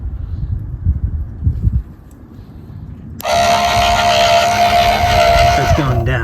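An electric trailer jack motor starts abruptly and spins with a loud, steady whine as the jack lowers, close by, after a stretch of low rumbling background.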